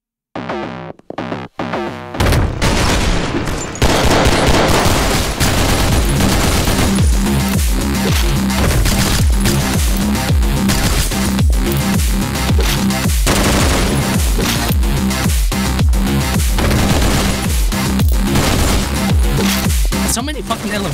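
Heavy light machine gun fire in the top-down shooter OTXO, loud and nearly continuous, dense overlapping bursts under a driving music track after a brief quieter opening, with a voice speaking over the action.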